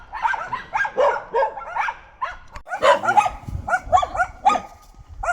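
Several dogs bark and yip in quick, irregular bursts, fairly close, with short pauses between volleys.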